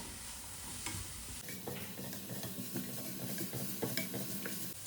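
Onions sautéing with salt in a pan, stirred until browning, with a steady sizzle and repeated scraping stir strokes, close but fairly quiet; no talking.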